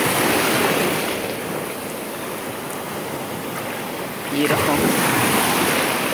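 Ocean waves wash onto a sandy beach at high tide, a steady broadband surf roar close by that swells louder near the end as a new wave breaks, with a person speaking briefly over it.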